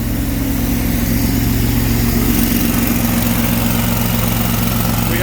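Honda gas engine driving a 4,000 PSI, 4-gallon-per-minute pressure washer runs at a steady loud drone with a constant low throb, close and unbroken, no talk over it.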